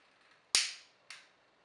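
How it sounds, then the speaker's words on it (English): Thin plastic panels on a Transformers Siege Megatron toy snapping during transformation: two sharp, close clicks about half a second apart, the first louder, against near silence. "Don't worry, these snapping sounds are normal."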